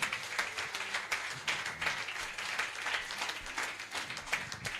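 A congregation at a gospel service led by an evangelist applauds, with dense, continuous clapping from many hands that holds steady throughout.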